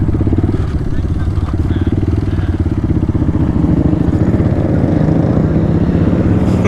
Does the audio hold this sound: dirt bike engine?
yes